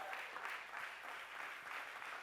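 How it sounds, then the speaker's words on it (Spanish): A church congregation applauding, a continuous wash of clapping that sounds somewhat distant and fairly soft. "No sé si alguien puede aplaudirle fuerte a Cristo con libertad."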